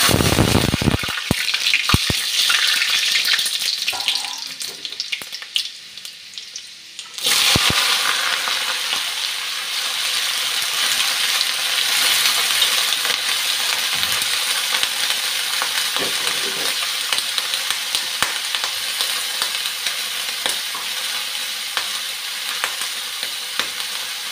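Dried chillies, green chillies and panch phoron hitting hot oil for tamarind pickle, a loud crackling sizzle with spits and pops, briefly quieter, then a dense steady fry that continues near and close for a long stretch.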